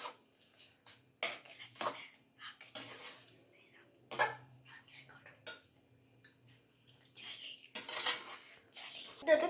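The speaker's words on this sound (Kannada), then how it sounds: "ಚೆನ್ನಾಗಿ ಮಿಕ್ಸ್ ಮಾಡ್ತಿದ್ದಾರೆ ಅಮ್ಮ." Tomato rice (chitranna) is mixed in a pan, with intermittent metal spoon scrapes and clanks against the vessel that come in bursts between quiet gaps.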